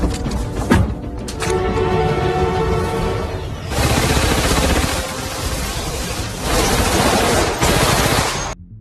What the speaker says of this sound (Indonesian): Dalam aksi baku tembak ini, Tommy berhasil membantai para dokter